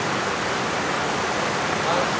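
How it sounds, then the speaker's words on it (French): Rain beginning to fall outside a church during a service, a steady broadband hiss of drops that fills the whole clip at even loudness, with no voices over it. "maintenant que la pluie a commencé à faire"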